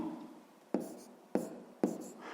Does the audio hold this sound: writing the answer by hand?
yes